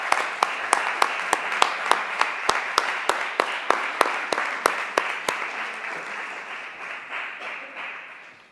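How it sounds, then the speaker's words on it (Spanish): An audience applauds at a book presentation, a steady run of crisp, close claps over a dense crowd wash that gradually fades away. "Muchas gracias y un aplauso para ella."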